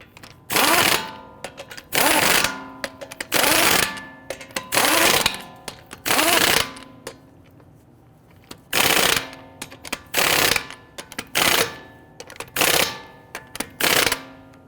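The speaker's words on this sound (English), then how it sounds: "We want to go ahead and get all of our lug nuts started by hand," An impact wrench fires repeated loud rattling bursts tightening lug nuts on a Dodge Charger wheel, about a dozen short hammering runs separated by brief pauses, close and harsh.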